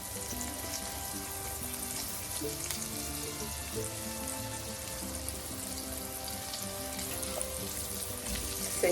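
Tuna and methi cutlets fry in hot oil, giving a continuous soft bubbling sizzle at a steady low level, with faint tonal hum beneath and no talking.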